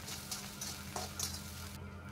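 Bengali fried rice (bhat bhaja) stirred in a pan: quiet sizzling with a few soft scraping stirs over a low background hum, fading briefly at the end.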